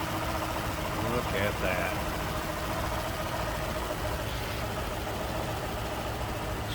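A 1932 Ford Model 18 Roadster engine idles smoothly with a steady, even rumble, close by and continuous, while someone speaks briefly over it.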